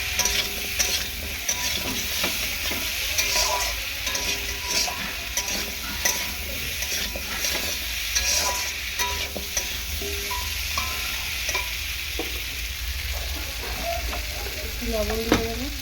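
Potatoes stir-fried in a pan give a steady, close sizzle, with frequent scraping and clinking strokes from the spatula throughout.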